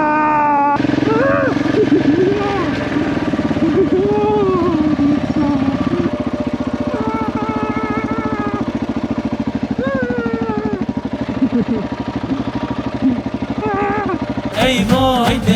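A motorcycle engine runs steadily through a ride in Morocco, a constant mid-pitched drone with shifting tones and clatter, loud and close throughout, ending with a sudden burst of noise.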